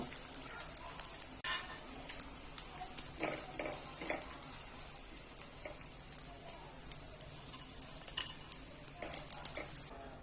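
Edible gum (dink) puffing in a pan over high heat, a faint continuous sizzle broken by scattered spoon scrapes and light metallic clinks of stirring, close and soft.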